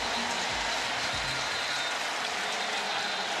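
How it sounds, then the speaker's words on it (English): A college football stadium crowd at James Madison vs. Virginia in 2023 roars during a timeout: a dense, steady wall of cheering and applause with no breaks. "listen to this crowd"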